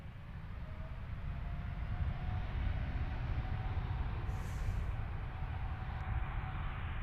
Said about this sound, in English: Nice big Dreamliner rolling for takeoff.